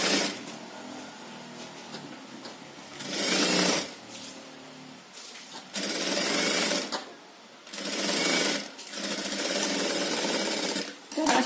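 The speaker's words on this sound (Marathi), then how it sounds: "शोल्डर पासूनच ही आपल्याला शिलाई इकडे करायची आहे" A sewing machine stitches a blouse sleeve to the armhole at the shoulder, giving four loud bursts of rapid rattling stitching separated by short pauses, with someone talking quietly in the gaps.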